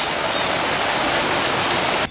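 A waterfall at San Antonio Zoo roars in a loud, steady, close rush of falling water, broad and unbroken from start to finish.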